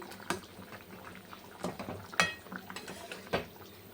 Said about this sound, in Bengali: এবার ফুটে নিই